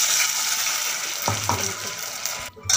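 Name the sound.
tempering sizzling in a pan for rice kheer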